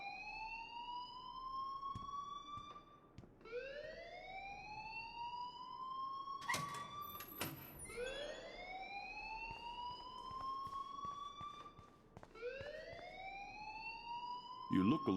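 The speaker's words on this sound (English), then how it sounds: "please turn off that alarm since that's your job" A school fire alarm in the video game Life Is Strange wails in repeated rising sweeps, each tone climbing and holding before restarting, loud and continuous across the scene with brief sharp clanks and voices talking faintly underneath.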